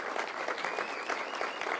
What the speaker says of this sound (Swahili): Huyu mzee tumpigie makofi jameni.